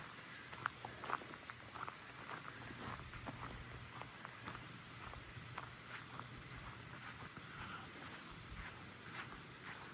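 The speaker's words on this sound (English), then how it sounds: "I'm gonna walk back here to the tent site" Footsteps tread across rain-soaked, puddled ground at a tent site in Skeenah Campground, a steady patter of soft, squelchy steps close to the microphone over a constant outdoor hiss.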